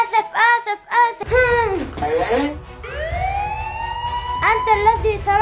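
Cartoon police car siren in a children's show, a long rising and falling wail that follows bursts of squeaky, excited character voices.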